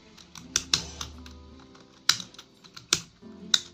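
Code being typed on a computer keyboard while CSS styles are written: sharp, close key clicks in irregular bursts, a couple of quick strikes then separate single taps spread out with short pauses, and no talking.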